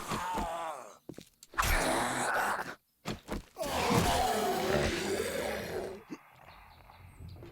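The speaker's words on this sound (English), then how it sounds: "I hear another snoring zombie somewhere" A zombie in the video game 7 Days To Die groaning and snoring, rough drawn-out raspy grunts in uneven bursts with brief gaps, fairly close and loud.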